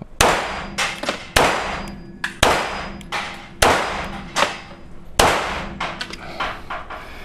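Pistol shots ring out at a shooting range in the Czech Republic, five sharp loud cracks at uneven intervals with echoing tails, plus fainter clanks of casings and handling between them.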